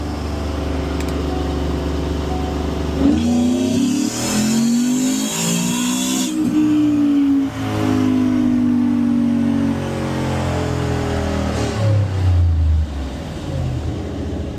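A 2025 Ford F150 with a 5.0 V8, Whipple supercharger and catless long-tube headers revs hard and loud, engine pitch climbing and falling through repeated throttle blips, close by with no talk.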